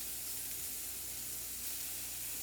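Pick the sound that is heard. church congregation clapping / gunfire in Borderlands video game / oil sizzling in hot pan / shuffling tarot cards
oil sizzling in hot pan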